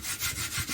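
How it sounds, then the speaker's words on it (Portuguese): Sandpaper rubbing cement putty on a cardboard vase mold, a steady back-and-forth scraping in slow, even strokes, close and continuous with no talking. "Vai lixando aqui aquela massinha que nós colocamos, bem devagarzinho, arredondando"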